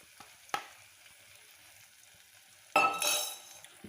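Beaten egg poured into a hot pan with softened onions for masala egg pasta: a sudden loud burst of sizzling after a quiet stretch with a faint utensil tap.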